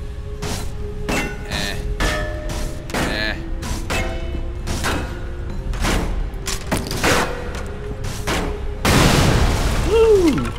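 A bomb goes off in the video game Totec and Friends with loud, booming thuds, one after another, ending in a big sustained blast, all under steady chatter from players.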